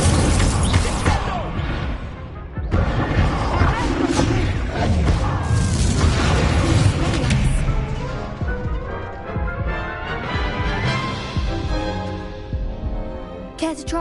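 An Incendio fire spell in Hogwarts Legacy sets off a loud, sustained roar of flame with heavy booms and crashes near the start, thinning into a rumbling, crackling tail.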